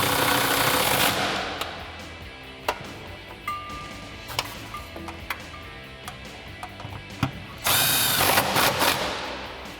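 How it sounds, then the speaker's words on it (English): An electric impact gun with a 10mm socket tightens bolts on a 2005-2010 Mustang GT Hurst short throw shifter install, giving several brief rattling bursts and one longer hammering run near the end, loud and close. "I'm going to grab my 10mm on my electric impact gun"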